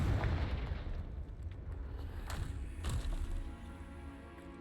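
A Confringo fire-blast spell going off in Hogwarts Legacy, a heavy explosive boom with deep rumbling thuds, followed by a second burst and a fading low roar.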